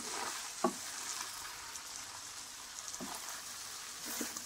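Masala veggie pasta sizzles in a hot pan while being stirred and mixed, a soft continuous frying hiss broken by a few light scraping clicks of the spoon, close but fairly quiet, no voices.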